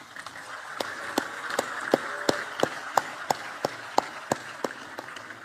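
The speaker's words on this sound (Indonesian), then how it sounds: "Tepuk tangan dong." Sparse applause from an audience at a school education-day ceremony, with distinct individual claps landing in a slow, fairly regular rhythm over a low murmur of room noise.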